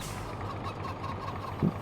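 Chickens on a farm in Farming Simulator 22 clucking and gobbling faintly over a constant low ambient hum, with a short louder call near the end.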